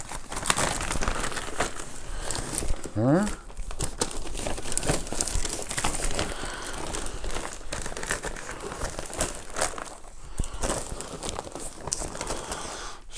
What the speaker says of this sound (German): dann können wir nämlich mein Paket hier reinpacken in diese Tüte